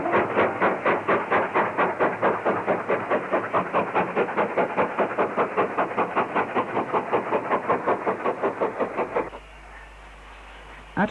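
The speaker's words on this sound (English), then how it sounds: "the train is seen crossing Morvagh Crossing," Steam locomotive hauling a train across Morvagh level crossing on the Cambrian Coast line, gatekeeper-controlled; a steady, loud clickety-clack of wheels over rail joints runs throughout with hissing, then drops abruptly to a quieter rumble near the end.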